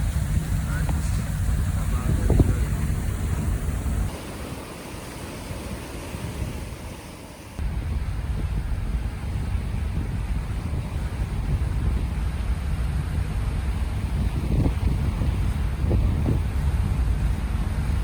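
Boat travelling over waves near Lamalera, a steady wind-buffeted roar of water and engine with brief lulls and thumps, continuing throughout with faint voices.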